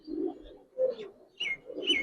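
Giribaz and colouring-breed pigeons cooing nearby, three or four throaty coos in quick succession, clear and close with no talking.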